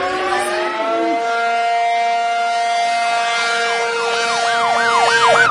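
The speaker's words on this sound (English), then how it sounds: "Sirens." Loud, layered sirens wail continuously, one tone holding steady while another warbles up and down faster toward the end.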